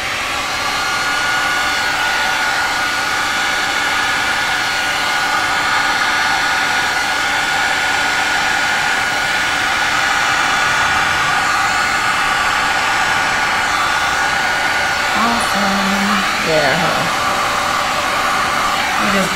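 A hair dryer blows steadily on a resin piece, a loud, continuous rushing whirr close by that holds an even level throughout, with a brief faint knock near the end.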